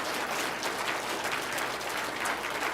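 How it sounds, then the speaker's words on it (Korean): A church congregation at a Sunday morning worship service claps together in praise, a thick, even wash of applause that stays steady and moderately loud throughout. "영광의 박수 올립시다"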